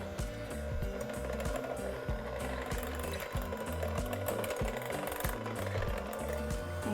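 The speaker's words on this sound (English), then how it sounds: "now we're just going to beat on low speed until everything is incorporated together" An electric mixer beats eggs, flour and salt on low speed. It makes a loud, continuous motor drone with a rhythmic rattling knock from the beaters against the bowl, and nobody speaks.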